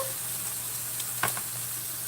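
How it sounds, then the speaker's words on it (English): Onions frying on a hot griddle for a zero-carb burger, a soft steady sizzle with a brief scrape or stir near the middle, quiet and close. "We're getting ready to take these onions off of here."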